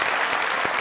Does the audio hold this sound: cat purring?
no